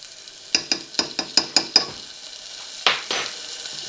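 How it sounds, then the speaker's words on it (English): Minced garlic, about a teaspoonful, is dropped onto softened onions frying in a pan. A steady sizzle runs under a quick series of about seven sharp stirring taps, followed by two more scrapes. "Okay, my onions have softened up enough. I'm going to add some garlic to it first."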